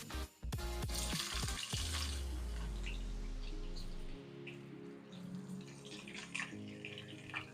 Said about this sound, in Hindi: ऑयल मेरा जो सा है वो अच्छी तरह गर्म हो गया है। अब मैं इसमें प्याज ऐड करता हूँ